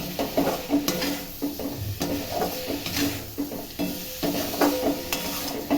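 A curry sweetened with sugarcane jaggery being stirred in a pan, a spoon scraping in quick repeated strokes over a soft sizzle, close and fairly loud throughout, with no talking.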